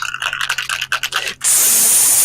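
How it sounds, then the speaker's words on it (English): Spray paint can hissing in one sharp, loud continuous burst after a second of rattling and scraping, close and alone. "He's spray painting himself."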